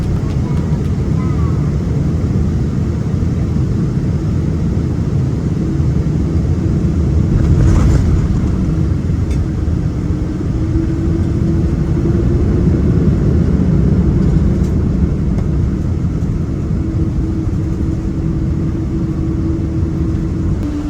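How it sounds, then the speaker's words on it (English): Boeing 777 rolling out after touchdown on runway 28 Center at Chicago, a loud continuous cabin rumble with broadband roar, a faint rising engine whine joining midway, sustained throughout. "a relatively smooth touchdown on runway 28 Center"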